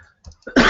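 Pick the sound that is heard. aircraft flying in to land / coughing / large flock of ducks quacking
coughing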